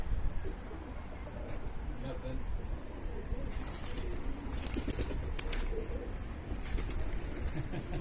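Pigeons coo softly amid bursts of flapping wings as birds take off, with people talking in the background.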